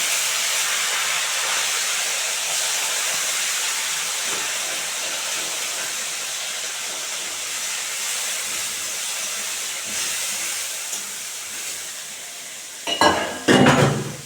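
Shrimp fry in a pan with sliced green chillies, giving a steady loud sizzle and hiss that runs throughout. Near the end a few louder stirring scrapes and crackles break in.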